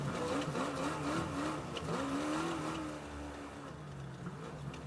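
Race vehicle engine in the Baja 500 off-road race revving hard, pitch climbing and dropping through gear shifts from first to second, loud and continuous, then settling to a steadier drone.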